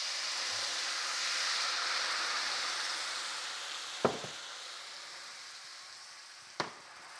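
Wine poured into a hot pan of browned chicken sizzles as a steady, bright hiss that slowly fades, broken by two sharp clicks of a utensil against the pan.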